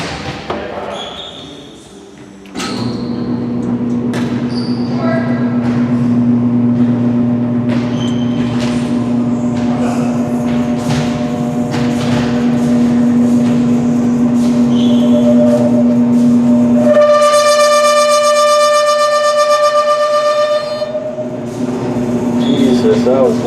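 A 2012 Bella EL-96 screw-driven wheelchair lift in a college gymnasium runs with a loud, steady motor drone and a grinding mechanical hum, with clicks and a high whine near the end.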